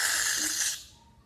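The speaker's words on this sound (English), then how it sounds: "now I'll add some shaving cream" Shaving cream sprays from an aerosol can while slime is being made, a steady close hiss for under a second that cuts off and leaves faint room tone.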